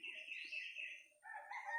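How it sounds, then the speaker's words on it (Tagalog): A rooster crows in the mountains, one faint, distant crow drawn out into a second rising call, with nothing else heard over it. "may mga manok din na naririnig namin na tilaok ng manok"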